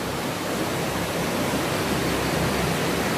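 Steady broadband rush of a river flowing beneath a road bridge over Kali Bango in Malang, a continuous even wash of water with no voices.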